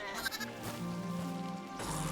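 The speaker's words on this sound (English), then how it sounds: "Sheep!" Sheep in a blocky video game bleat in a drawn-out, wavering cry with a brief second call near the end, clear and close over a soft continuous game background.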